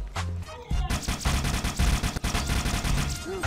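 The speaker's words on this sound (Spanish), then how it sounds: "Explosión de aguijoneador." Needler explosion in Halo: Combat Evolved Anniversary, a rapid cluster of sharp, crackling blasts that pile up into a dense, loud barrage lasting a few seconds, with brief cuts in the texture.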